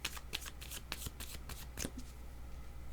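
Tarot cards being shuffled by hand, a run of quick papery riffles and flutters close by with no talking.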